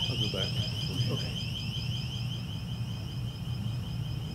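A door alarm at a hearing sounds a continuous, steady high-pitched electronic tone that fills the room. Voices murmur underneath at first, then the alarm carries on over low background noise.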